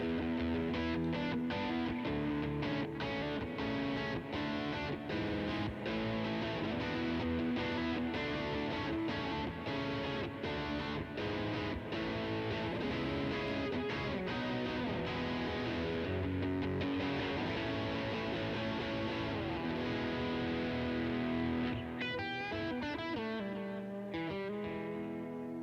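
An electric guitar plays through a Fender Tonemaster Super Reverb amp. A continuous, loud melodic passage with reverb carries on throughout and thins out at the close.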